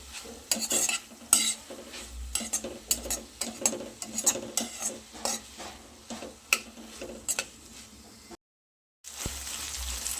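Spiny gourd (kakoda) vegetable with turmeric and salt being stirred in a pan, a spoon scraping and clinking in irregular bursts over a soft sizzle, close and fairly loud, with a brief silent gap near the end.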